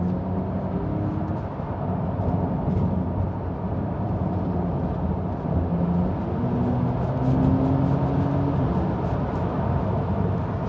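Porsche 911 992 Turbo S with four-wheel drive accelerating downhill, heard from inside as a steady deep engine drone with rising tone and road rumble, continuous and fairly loud.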